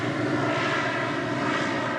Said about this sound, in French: C'est un avion qui est un peu délicat à piloter.